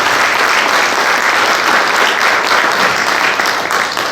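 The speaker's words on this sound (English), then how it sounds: "go ahead and give them a round of applause" A crowd at a sponsored stage event applauds a sponsor, the Credit Union of Texas, with dense, steady clapping that stays loud and even throughout, with no talking over it.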